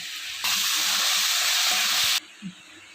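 Tomato cooking in a pan for prawn curry gives a loud, steady sizzle and hiss that surges in abruptly, holds for about two seconds, then cuts back to a faint simmer.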